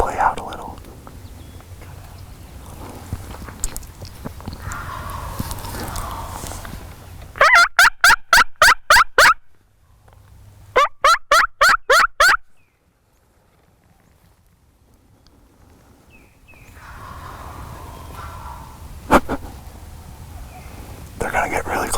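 Wild turkeys gobble in two rapid rattling bursts during a Massachusetts spring hunt, moderately distant, with hushed whispering voices before and after.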